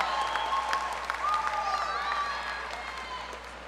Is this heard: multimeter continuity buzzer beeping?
no